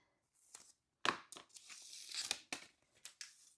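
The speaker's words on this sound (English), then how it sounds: "grab a piece of transfer tape and peel off the backing" Transfer tape has its backing peeled off by hand in a quiet room. Quick crinkling, tearing rasps come in several short bursts with gaps between them, close and fairly soft, and no one speaks.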